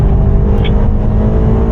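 A car on a race track, its engine loud and close, holding a steady, full-throated drone under throttle throughout.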